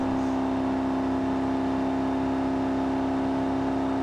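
A car engine drones at a steady high pitch, a constant whirring hum with no clear rise or fall in revs.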